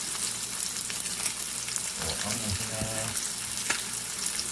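Butter sizzling and spitting in a pan with steak, a steady bright crackle with a brief lower rumble and faint voice partway through.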